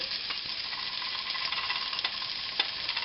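Ham stir-frying in a hot pan for fried rice, a soft, steady sizzle with light scattered crackles and an occasional stirring tap, fairly quiet and free of speech.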